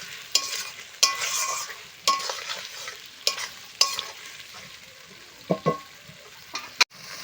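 Fried potatoes are stirred into spice paste in a pan for a village-style shol fish curry, giving a soft continuous sizzle broken by sharp, close scrapes and knocks of a spatula at an uneven pace.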